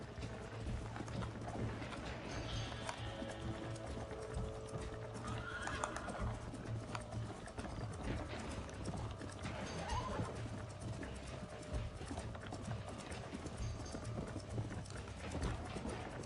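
Horse hooves in the video game Red Dead Redemption, a fast, steady clip-clop of galloping that runs for the whole stretch, with occasional whinnies over a low rumbling bed, fairly quiet overall.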